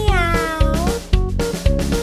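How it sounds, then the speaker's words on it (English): A cat meows several times in quick succession, loud and close, with rising and falling tones and no talking over it. "I see a cat."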